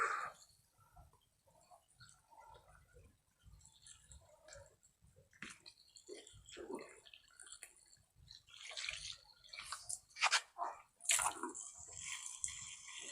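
Garden hose watering plants in the morning: faint, intermittent splashing and dripping of water on leaves and soil, growing busier toward the end.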